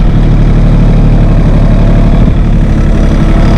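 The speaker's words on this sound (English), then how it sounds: "Try to give it a decent pull, give it a little throttle, help work the clutch." A New Holland Workmaster 25 tractor engine works under throttle in the woods, a loud, close, steady low diesel drone that holds without a break.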